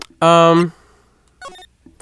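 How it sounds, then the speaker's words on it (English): A phone going off in the Phoenix Wright: Ace Attorney – Justice for All video game: a loud sustained electronic tone burst, then a shorter fainter chirping tone, with a brief voice sound near the end. "my phone's going off and I don't know what it's about"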